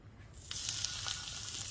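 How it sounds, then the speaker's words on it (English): A sharp, loud sizzle erupts as tuna hits a hot pan, then continues as a steady hiss of searing. "Listen for the sizzle."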